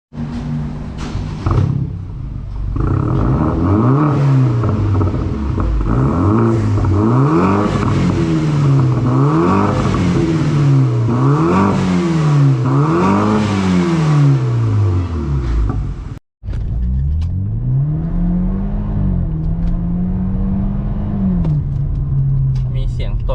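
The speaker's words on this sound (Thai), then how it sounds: "ทดสอบอัตราเร่งนะฮะ ให้ดูคร่าวๆนะครับ F30 Euro Art Exhaust นะฮะ" A BMW F30's Euro Arts sports exhaust revs repeatedly in loud rising and falling bursts, then after a brief cut holds a long steady rev, close and alone.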